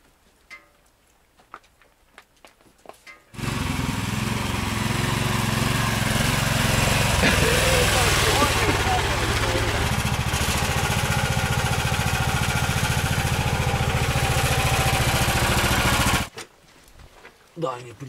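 A quad bike engine starts abruptly after quiet and runs loud and steady nearby in a taiga setting for about thirteen seconds, then cuts off suddenly.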